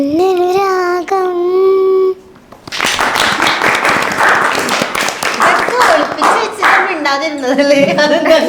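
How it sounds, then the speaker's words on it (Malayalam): A group claps together for several seconds during an interview with a creative team, right after a short burst of singing, and a voice starts talking again as the applause fades. "മിണ്ടാതിരുന്നതല്ലേ, അതെന്താ അങ്ങനെ ഒരു കൈയടി"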